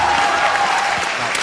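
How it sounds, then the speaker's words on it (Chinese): A studio audience on a Chinese televised job-hunting show applauds steadily to welcome a guest named Xie Xin, a dense, even wash of clapping that holds for the whole moment with faint voices beneath. "让我们大家用热烈的掌声欢迎谢欣。"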